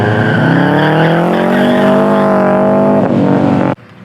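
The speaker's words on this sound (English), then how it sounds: "the cacophony of engine noises and compressor surge and tire squealing every here and there" Modified cars at a time attack championship final run together on a racetrack, a loud rising engine note with harmonic whine and tire squeal, close and continuous before cutting off abruptly.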